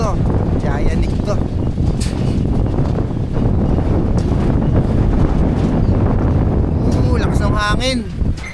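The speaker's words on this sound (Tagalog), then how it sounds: "Lakas ng hangin." Strong wind roars steadily into the microphone while riding a Yamaha NMAX V2 220cc scooter, a loud broadband rush filling the whole clip with no spoken words.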